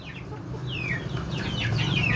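A chicken suffering from a snoring respiratory ailment gives a few short, high clucks and squawks close by, over a low steady background hum.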